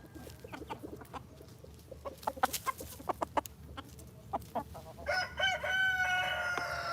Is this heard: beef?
no